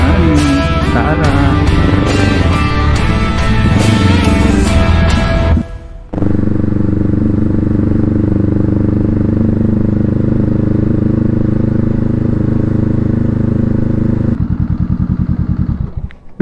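A motorcycle rides along a village road during a fiesta, its engine droning steadily and loud with clattering over a busy, music-like start; after a brief dip the steady engine hum continues alone to the end.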